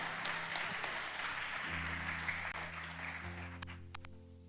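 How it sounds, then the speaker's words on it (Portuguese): A church congregation applauds in a steady, moderate patter, with sustained keyboard tones held underneath that shift pitch midway. "Aplaude ao Senhor pela vida das nossas crianças."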